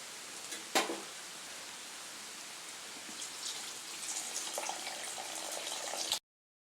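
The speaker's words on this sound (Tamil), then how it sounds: "இப்போ நம்ம இதில் புளி கரைச்சலாம் நம்ம சேர்த்துடலாம்." Tamarind water poured into a pan of sautéed eggplant for a Tamil kuzhambu, a soft steady splashing pour after a brief clunk, quiet and close, ending abruptly.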